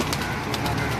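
Pigeons on a rooftop loft, red-eyed show birds, cooing in a steady low murmur that runs the full second, close and continuous with no talk over it.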